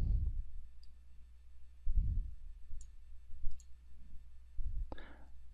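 A computer mouse clicks faintly a few times while a debugging tool's label list is browsed, with soft isolated ticks over a low steady hum and no talking.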